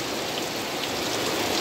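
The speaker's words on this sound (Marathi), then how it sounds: "सुंदर असा पाऊस पडतोय मित्रांनो" Heavy monsoon rain pours down in a steady, dense hiss, a continuous loud wash of drops hitting surfaces with no break or voices.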